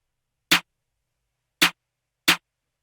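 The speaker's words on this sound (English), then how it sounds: "And then layered with that, trap clap." Three sharp hits of a trap snare layered with a trap clap, crisp and loud, spaced unevenly with dead silence between them.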